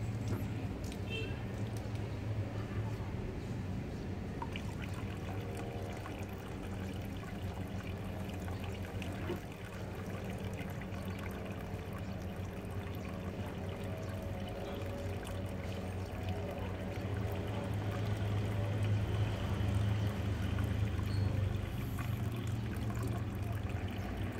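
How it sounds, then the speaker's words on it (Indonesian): Tap water runs steadily into a tank fitted with a float valve, a continuous close pouring and trickling wash that holds even throughout and grows slightly fuller toward the end, with no talk. "Sekarang saya akan buka airnya."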